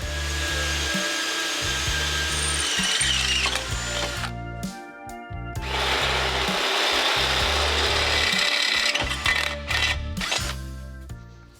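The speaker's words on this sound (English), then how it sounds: "I'll drill one hole for our new transmission mount." A drill bores a hole in a Camaro race car's cross member for a new transmission mount, a loud mechanical whir and grinding rasp running in two long bursts with brief breaks, with no voices.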